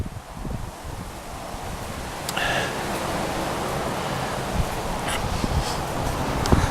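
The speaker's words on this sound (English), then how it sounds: "I'm sure that the wind is causing quite the ruckus here" Steady wind gusts over a hiking trail near the Twin Tunnels, a broad continuous rush with rustling, swelling slightly midway and staying loud and close throughout.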